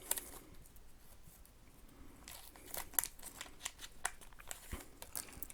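A sensor cleaning swab packet being torn open, giving faint crinkly tearing and rustling with a few small crackles, close and alone with no talk.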